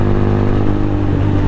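Venom X22R motorcycle engine held at high RPM while riding, a loud, close, steady buzzing drone with no break.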